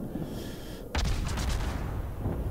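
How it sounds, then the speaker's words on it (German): Warship main guns firing armour-piercing shells in World of Warships, a sudden heavy boom followed by a sustained roaring rumble, loud and close, with no talk. "probieren wir mal mit AP in die Aufbauten zu schießen"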